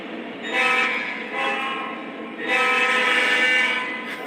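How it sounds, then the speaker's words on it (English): Model railroad coal train locomotives in a lash-up blow both horns together, two loud, sustained chord blasts with a short break between, alone and close. "Oh, it's got both horns going at the same time."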